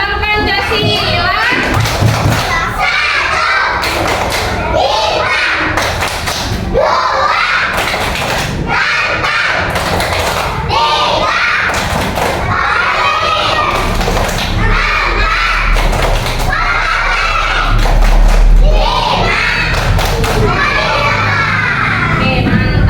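Schoolchildren in an Indonesian classroom perform the Pancasila symbol clapping chant, with loud rhythmic group claps and thumps mixed with children's shouted chanting voices throughout, busy and close.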